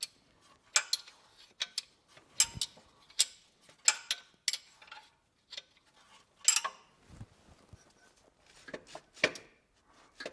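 A bolt being loosened during an alternator replacement on a Volvo V50 1.6 diesel: quiet, close metallic clicks and ratcheting ticks in irregular bursts, with short pauses between them.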